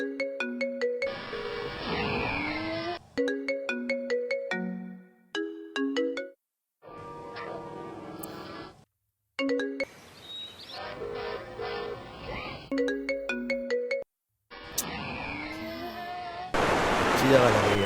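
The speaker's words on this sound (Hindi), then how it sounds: "फोन क्यों नहीं उठा रही?" Repeated electronic phone ringtone rings on and off, loud and close, cut by short gaps filled with background music and ambient sound, with a burst of bright noise at the end.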